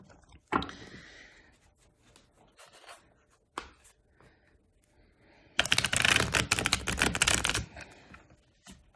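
Tarot cards shuffled by hand in a quick riffling burst lasting about two seconds, preceded by a couple of softer single card slaps and light handling noises in a quiet room.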